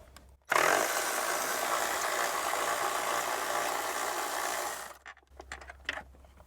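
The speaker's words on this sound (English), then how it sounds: "So just using a 12mm socket now." Power tool driving a 12mm socket on the battery tray bolts of a Toyota LandCruiser 300 Series, a loud steady whir that starts abruptly, runs about four seconds, then stops, followed by faint handling clatter.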